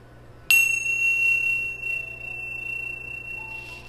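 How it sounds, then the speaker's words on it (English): A bell rung to clear energy during a shamanic healing session gives one sharp strike followed by a long, steady, high ringing tone that fades slowly over several seconds, with no talking. "I'm going to ring the bells to clear the energy"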